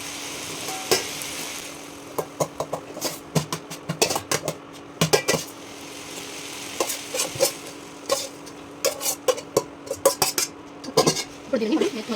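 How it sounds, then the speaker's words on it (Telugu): Metal spoon scraping and clinking against a pan while cooked rice is stirred into softened tomato, in irregular close clatters over a steady low sizzle, with no talking. "మొత్తం అన్నం అంతా మిక్స్ అయ్యేలాగా కలిపేసుకుంటే సరిపోతుంది"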